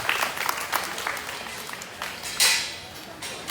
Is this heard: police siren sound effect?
no